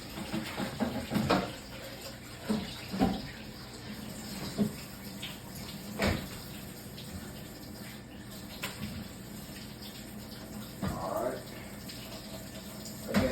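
Tap water runs steadily into a sink while pork steak is washed under it, with soft splashing and intermittent clunks and knocks of handling, and quiet talking now and then in the background.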